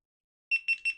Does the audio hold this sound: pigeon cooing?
no